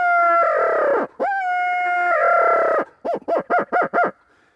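A hand call imitating a hawk, sounded loud as a deer-scaring predator call: three long drawn-out screams followed by a rapid run of five short sharp bursts, close and alone.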